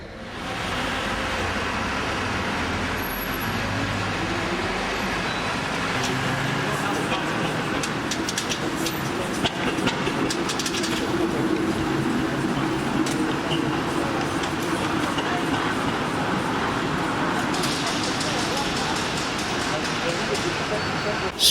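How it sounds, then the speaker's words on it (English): Vehicles arrive along a busy street ahead of the 2020 cart parade, making a steady, loud engine rumble and road noise that fills the whole stretch without pause. "Streets are getting busy as vehicles begin to arrive."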